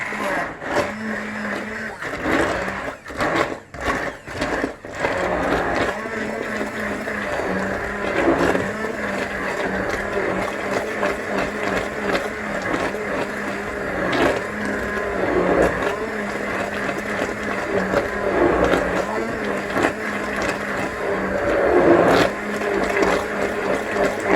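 Blender pureeing lentil soup with bacon set aside, a loud continuous motor whine that surges and drops in pitch as the chunky mixture churns, steady for the whole stretch with a brief bumpy start.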